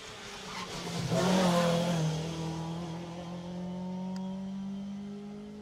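A rally car flies down a hill on a stage of the 2018 Jersey Rally, its engine roar swelling loudly as it approaches, then settling into a steady, sustained drone as it carries on at speed.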